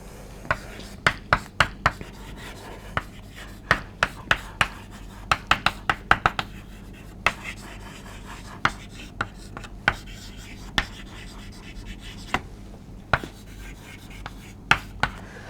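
Chalk or marker tapping and scratching out a question on a board during a physics lecture, a series of sharp close strokes and taps in irregular bursts, with no talking.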